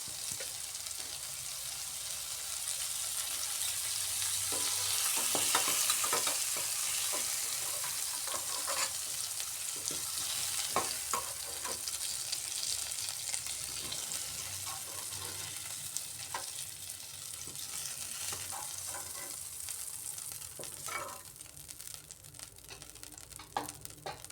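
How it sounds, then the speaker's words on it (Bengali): Pointed gourd (potol) fries in refined oil in a kadai for a vegetarian potol paneer dish, a steady close sizzle broken by repeated scraping and clattering of stirring. "এবার এই পটল ভাজা কড়াইয়ের মধ্যেই দিয়ে দিচ্ছি আরও দুই চামচের মতো রিফাইন্ড অয়েল"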